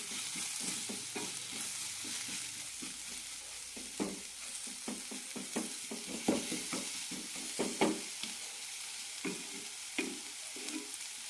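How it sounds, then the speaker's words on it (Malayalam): Spice powders, including garam masala, are stirred and roasted in a pan for a yam flower masala curry. A low sizzle runs throughout under repeated scraping stirs, close and fairly quiet. "നന്നായി മിക്സ് ചെയ്യാം. പൊടികൾ നല്ല റോസ്റ്റായി കിട്ടണം."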